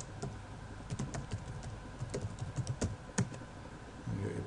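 Rapid keystrokes on a computer keyboard while a username and email are entered, irregular clicking bursts close by with a faint background hum and no speech.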